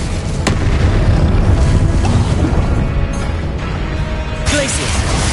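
A spell cast in Hogwarts Legacy erupts in a loud, rumbling explosion with crackling bursts and pops, sustained throughout while a voice shouts over the din.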